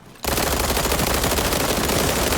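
Rapid automatic fire from an MPX submachine gun in the shooter game World War 3, a loud continuous burst starting abruptly after a brief quiet moment and roaring steadily to the end.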